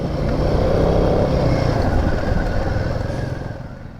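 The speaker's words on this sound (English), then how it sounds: "This thing feels like an old trail bike." A CFMOTO Ibex 450 MT adventure motorcycle rides along a rutted single trail, its engine a steady close rumble with wind noise throughout, easing off slightly toward the end.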